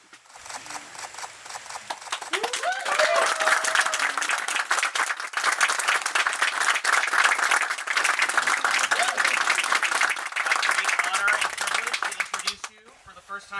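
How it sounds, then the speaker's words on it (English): Wedding guests inside a chapel in Sugar Grove, Ohio, break into sustained applause for a newly married couple, a dense wash of clapping that swells, holds for about ten seconds, then fades out. "Let's welcome them as newlyweds with a round of applause, please."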